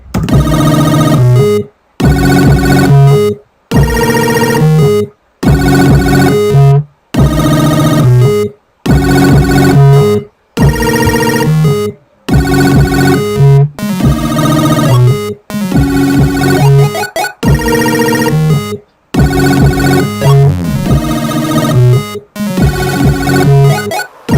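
Bright, buzzy electronic music with square-wave tones plays in repeated loud bars, each ending in a brief silent gap, loud and close.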